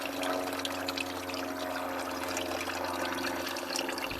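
Windshield washer fluid draining from the reservoir of a Toyota Camry, a steady continuous trickle and pour of liquid heard alone and close up throughout.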